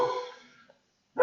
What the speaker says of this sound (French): Il y a le chien qui gueule.